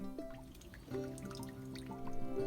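Water is poured onto potted plants in a small courtyard garden, a faint close trickle with soft drips and splashes that grows slightly fuller partway through, alone without talk.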